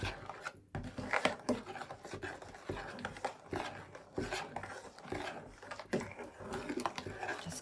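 A spoon stirs thickening rice pudding in a pot, giving irregular scraping and sloshing rubs that come close and fairly quiet, with no speech.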